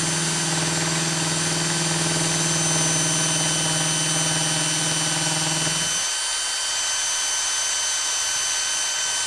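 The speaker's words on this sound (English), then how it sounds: "And then yeah, just let the drill do the work." A power drill runs steadily while boring a pilot hole in a workshop, a loud sustained motor whine with a constant pitch that cuts off abruptly after about six seconds, leaving quieter background hum.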